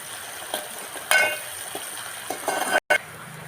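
Onions frying in a pan as they are stirred, a soft steady sizzle with a few close scrapes and clinks of the spoon against the metal.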